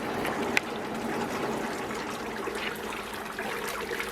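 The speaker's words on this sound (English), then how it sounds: "we're in the middle of sparging." Water trickles and splashes steadily during sparging of wort for a partigyle porter on a homebrew beer brewing day, a continuous close wash of liquid sound with no talk.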